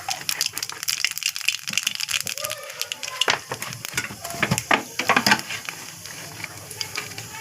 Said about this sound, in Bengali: কড়া আমার গরম হয়ে গেছে। এবারে আমি ফোড়ন দেব, কালো জিরে